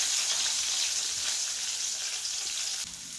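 Green chilies and onion fry in a pan with a loud, steady, hissing sizzle that runs continuously up close, easing slightly toward the end.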